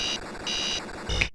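Care-is-missing alarm from the video game Petscop: a loud electronic buzzer alternating between two pulsing tones in a steady on-off pattern, ending abruptly after a final louder burst, with no other sounds.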